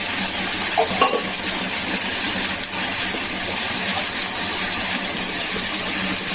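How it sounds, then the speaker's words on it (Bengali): Vegetable curry with small cardamom fries in ghee, giving a constant loud sizzle and hiss with occasional stirring scrapes and no talk. "এবারে তরকারি একটা ছোট এলাচ দিয়ে ঘি দিয়ে ভেজে নেবো"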